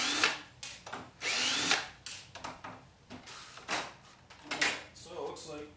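A power drill fitted with a square bit backs screws out of a smart board's aluminum rails, giving short whirring bursts with clicks and rattling handling noises between them.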